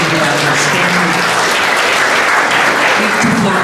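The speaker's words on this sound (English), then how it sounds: "and I take with my panelists a big applause for them" Dense, loud applause from a conference audience for a panel of speakers, sustained without a break through the whole stretch, with faint voices mixed into the crowd noise.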